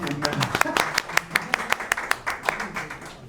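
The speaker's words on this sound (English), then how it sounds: "Big round of applause" A small meetup audience claps in a room, the individual hand claps distinct and fairly sparse rather than a dense roar, with a voice heard at the start.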